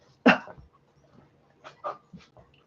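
An anxious service dog gives a loud yelp followed by a few softer whimpering, whining sounds, close by and alone.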